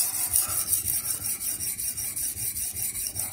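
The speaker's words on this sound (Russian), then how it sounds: "Взял мусатиком 3 движения сюда, 3 движения туда" Steady rhythmic rasping strokes of an M390 steel knife being honed on a musat honing rod, back-and-forth passes repeating evenly and close up, without any talk.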